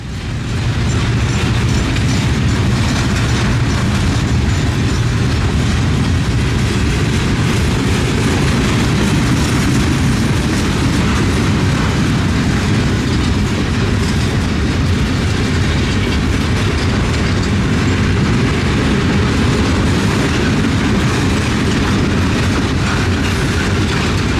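Loud, sustained rumble and rhythmic clickety-clack of FEC freight train 141 carrying eighteen heavy concrete high-and-wide loads, creeping slowly along the track near a yard, with faint wheel squeal and no talk.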